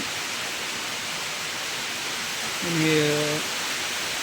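Heavy, steady rain pours down during a long downpour of returning-monsoon season, drumming on a metal sheet roof of a shed as a constant broadband hiss, with a brief tonal hum rising near the end.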